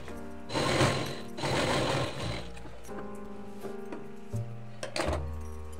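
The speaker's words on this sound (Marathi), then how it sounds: "आता उलटी साईड बाहेर काढून टीप मारून घ्यायची 1/2 इंचावर" A sewing machine runs in bursts while stitching the sleeve of a katori blouse: loud whirring runs of stitching, then quieter mechanical clicks and thuds between them, close up.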